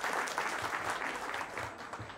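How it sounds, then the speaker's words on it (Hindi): A large audience of electricians at a Polycab company event breaks into dense, sustained applause, loud and close, with no pause in the clapping. "तो सबसे पहले तो आप सब लोग अपने लिए तालियां हो जाएं।"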